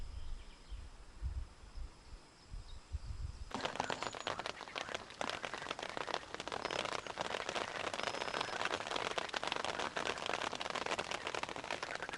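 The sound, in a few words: rain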